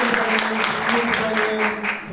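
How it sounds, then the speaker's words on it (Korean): At a book concert in Changwon, the audience applauds, a short, loud burst of clapping with steady rhythm, while a musical tone or voice carries underneath. "박수 부탁드리겠습니다"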